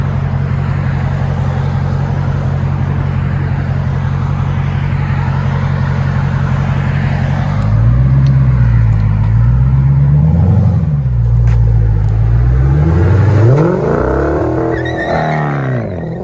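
An 840hp Dodge Demon V8 with a Kooks exhaust idles with a deep, loud rumble, then gets revved in several swelling bursts that rise and fall, the final revs sweeping highest, heard up close with no talking.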